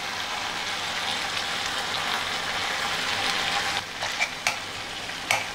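Ginger garlic paste sizzles steadily in hot oil for pepper mutton fry, a close, dense crackling hiss that continues throughout, with a few sharper pops and spatters near the end.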